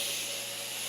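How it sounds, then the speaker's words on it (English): Compressed air hisses steadily from the coast clutch drum of a GM 4L80-E transmission during a rebuild, a close, continuous leak with no voices. "there's the other one, leaking a little bit of air. I'm checking the coast clutch drum."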